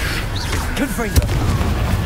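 A Confringo spell explodes during magical combat in the video game Hogwarts Legacy: a brief, sharp burst just past the midpoint stands out over a steady rumbling battle bed, while voices are heard throughout.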